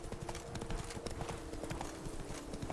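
Horse hooves clip-clop at a steady trotting rhythm while riding in The Witcher 3: Blood and Wine, the even beats continuing throughout over a dense layer of game ambience.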